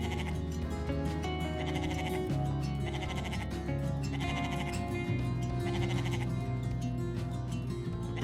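Goats bleating in a small herd on a farm used for clearing kudzu, with several overlapping drawn-out wavering calls, close and steady, with no pauses between them.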